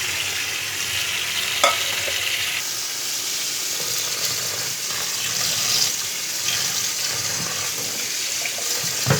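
Cooked chowmein noodles are strained under a running cold kitchen tap, a steady hiss of flowing water with small splashes and clatter throughout, close and fairly loud, with no voices.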